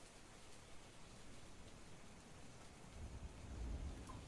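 Steady hissing rain pours outside in the horror game After Midnight, with a deep low thunder rumble swelling up near the end, all fairly soft and without any talking.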